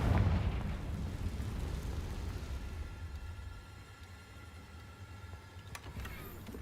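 Confringo blasting spell detonating in Hogwarts Legacy, a loud fiery boom at the start that decays into a long rumbling tail, with faint tonal game ambience afterward.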